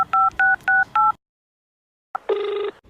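Four short, evenly spaced touch-tone beeps of a phone being dialed, then silence, followed by a brief tone and a ringing tone as the call connects, clear and close.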